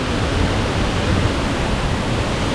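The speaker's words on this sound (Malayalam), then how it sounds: "ഇവിടുന്നേ വെള്ളച്ചാട്ടം നമുക്ക് കാണാം" Pampanal waterfall in Kerala, a continuous broadband roar of falling water heard steadily from nearby, with no voices.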